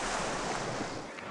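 Splashing water ride in RollerCoaster Tycoon 2, a brief, steady rush of splashing water like surf, loud and close, with no voices.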